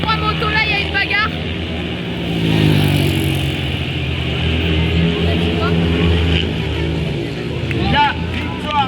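Motorcycles battling for position in a dirt track race, engine whine rising and falling as bikes pass, heard under continuous excited commentary from an announcer.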